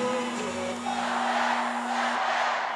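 An arena crowd roaring at a professional volleyball match between Orlando and Omaha, a sustained wash of cheering voices building slightly louder, with a steady tone underneath at first.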